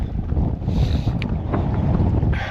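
Coastal wind buffeting the microphone at Sønderby Klint during sea trout fishing, a steady loud roar with low rumble and gusts, faint surf beneath, no talking.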